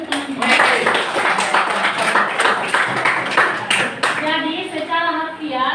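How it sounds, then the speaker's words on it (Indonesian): Classmates clapping in a school lesson, a burst of scattered hand claps mixed with children's voices and talk, fairly close and lively. "Aplaus untuk teman-teman"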